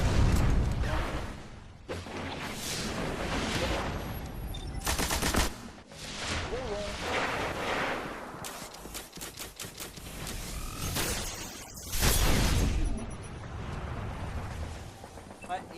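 Weapon fire in the video game Destiny: dense bursts of rapid gunfire and heavy blasts in uneven volleys, with a voice talking between them.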